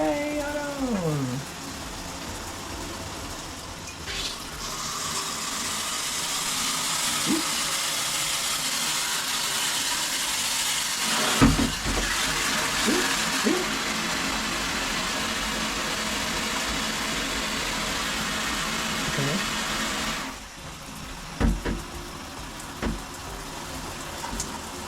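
Water hisses steadily from a shower head in a broad, continuous spray, interrupted by a few knocks and brief pauses, with occasional talk underneath.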